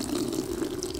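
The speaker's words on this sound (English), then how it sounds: "Here goes the cold water." Cold water pours steadily during a color-changing craft experiment, producing a short, continuous liquid stream sound lasting about a second with no talking.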